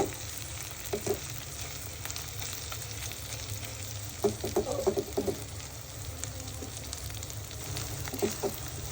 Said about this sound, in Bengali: আমি আর অল্প কিছুক্ষণ ভেজে নিব।